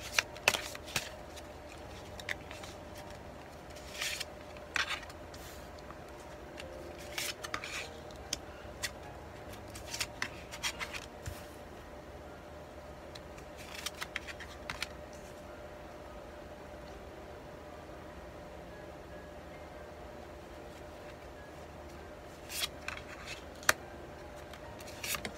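Tarot cards are shuffled and drawn at a quiet table, giving faint, intermittent papery flicks and brief riffles scattered over a soft background hiss.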